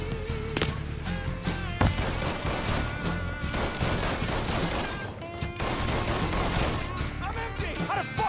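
Gunfire in Mafia 3 cracks as a dense fusillade of shots and bursts, loud and continuous, mixed with game music and occasional voices.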